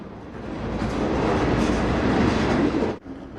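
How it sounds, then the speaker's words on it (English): Train wheels clatter over the rails in a continuous, loud rumbling clickety-clack that builds, holds steady, then cuts off abruptly near the end. "the clickety-clack of the wheels on the rails can take us back in time"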